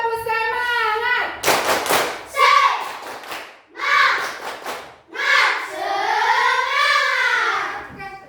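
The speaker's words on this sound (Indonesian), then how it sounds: "Sekali lagi, tepuk semangat." A classroom group does a rhythmic 'tepuk semangat' spirit clap as an ice breaker, with bursts of sharp clapping in patterns broken up by chanted voices, close and loud.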